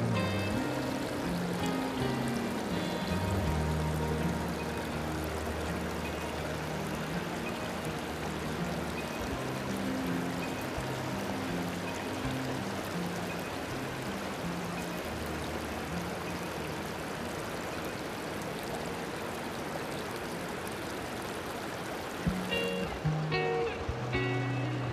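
A small waterfall pours into the Caney Fork River over a shallow cave, giving a steady, close rushing and splashing wash of water that stays even throughout with no talk.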